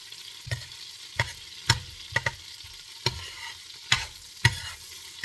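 Melting butter stirred in a pot over reduced heat, a faint sizzle running throughout with distinct scraping strokes of the spoon against the pot in an irregular rhythm, close and alone.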